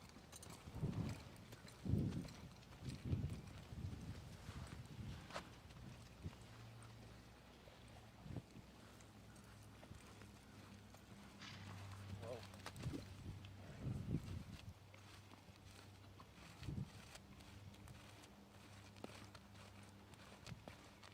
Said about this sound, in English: He'll canter as good as anybody's quarter horse.